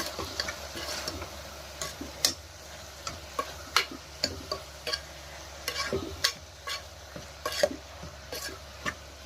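Fenugreek-leaf curry frying in a pan while a spoon stirs it, with sharp scraping clicks at an irregular rhythm over a steady low sizzle, close and fairly quiet, with no talking.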